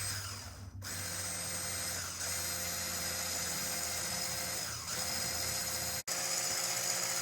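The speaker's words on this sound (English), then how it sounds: "Now, we're going to whisk it." An electric mixer whisks sugar into whipped eggs for a Hungarian Esterhazy cake, a loud, close, high-pitched motor whine running continuously with a few brief dips and one sharp cut, with no talk.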